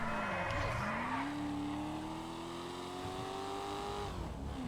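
A Coquette D1 sports car in a racing video game revs and accelerates, its exhaust note rising in a steady climbing drone and falling off near the end, with faint tire noise underneath.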